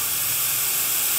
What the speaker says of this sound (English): So always wear one of these things when you're spraying this stuff.